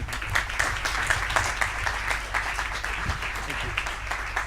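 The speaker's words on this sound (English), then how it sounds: "Big applause, please, for the three." An audience at an AI conference panel claps in a dense, sustained round of applause, with a few louder individual claps standing out near the front.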